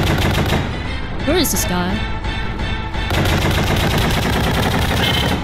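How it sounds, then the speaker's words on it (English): Rapid gunfire in a pony-themed video game, dense bursts of automatic shots nearly continuous and loud, with a brief pause and a rising tonal game effect midway, while a player speaks over it. "Wait, how is he shooting so fast?"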